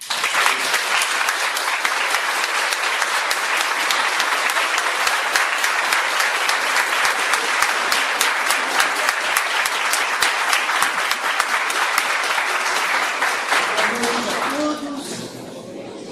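Sustained applause from a large crowd, dense and steady for about fourteen seconds, then fading out near the end.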